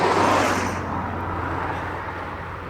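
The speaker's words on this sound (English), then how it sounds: "just the odd car coming by, whizzing along the road" A single car whizzes past on a quiet road in Dartmoor National Park, loud and close at first, then fading into a soft steady road rumble.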